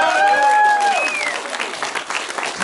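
A crowd at a village school reunion of 2005 graduates breaks into loud, steady clapping. A brief whistle rises over the applause at the start.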